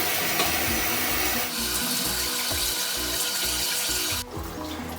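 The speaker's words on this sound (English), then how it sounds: "wash your hands. 20 seconds, plenty of soap." A running kitchen tap pours steadily while hands are scrubbed with plenty of soap beneath it, a loud continuous splashing stream that shifts as the hands move, then drops away near the end.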